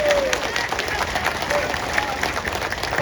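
A big crowd at an Assam political rally claps loudly and steadily for their MLA. The dense applause is mixed with a few cheers and crowd noise.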